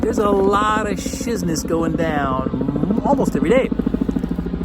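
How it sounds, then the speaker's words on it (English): A helicopter hovers close overhead, its rapid rotor chop pulsing steadily beneath someone talking loudly throughout. "The darn helicopter is hovering pretty much right over my head right now."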